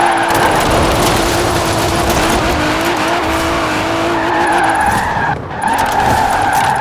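A car drifting in the video game Forza Horizon 4, loud sustained tire squeal and skidding over a roaring engine, continuous and close with a brief dip near the end.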